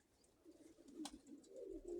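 A domestic pigeon, a blue-grey female, cooing softly with a few low, rolling coos, quiet and fairly close, with a brief flutter in the middle.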